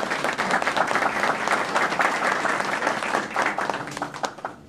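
Steady applause from an audience at a district council ceremony in Chancay during national holiday festivities, dense clapping sustained throughout and tapering slightly at the end.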